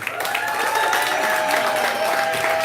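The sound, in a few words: audience applause at a poetry open mic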